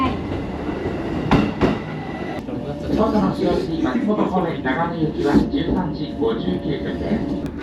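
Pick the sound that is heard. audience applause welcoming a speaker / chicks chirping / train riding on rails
train riding on rails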